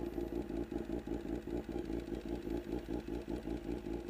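A motorcycle engine runs steadily at close range while the clutch is let out and the bike pulls away, giving a continuous pulsing mid-pitched drone with rhythmic chugging and light mechanical clatter, no voices.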